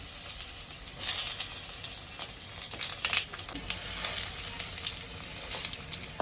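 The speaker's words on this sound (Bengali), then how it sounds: "কড়াইয়ের মধ্যে তেলটা দিয়ে দিয়েছি পরিমাণ মতো আলুটাকে ভেজে নেওয়ার জন্য হালকা করে" Potatoes frying in oil in a wok make a steady, close sizzle with bursts of crackling and light stirring noises throughout, with no one speaking.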